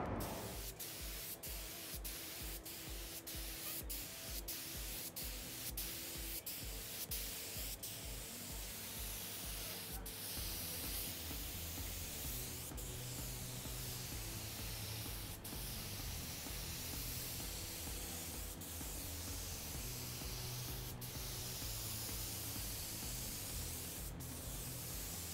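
A spray gun hisses steadily as it lays primer and lacquer onto a car part in a paint booth, a long continuous spray with faint ticking clicks through the first half.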